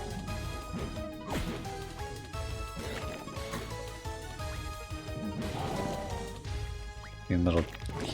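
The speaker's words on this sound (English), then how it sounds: "Little hero running around here just smashing stuff or trying to" Small hero character smashing objects in the fantasy strategy game Super Fantasy Kingdom, with scattered crashes and thwacks under continuous talk and game music, one louder burst of impacts near the end.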